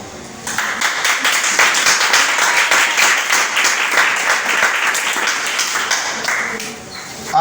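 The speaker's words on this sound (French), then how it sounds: "Si tu es avec moi, acclame Jésus" A church congregation at a French-language prophetic sermon applauds and cheers for several seconds, dense clapping and shouting filling a large room, loud and sustained before fading.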